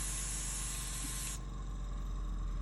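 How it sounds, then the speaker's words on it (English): An airbrush sprays during cleaning, giving a loud, close, continuous hiss that cuts sharply to a softer, duller airflow halfway through before running on steadily. "I'm just going to give it a bit of a spray."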